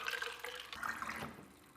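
Tap water runs into a bottle, a close, bubbling, gurgling stream with small shifting splashes that thin out slightly toward the end.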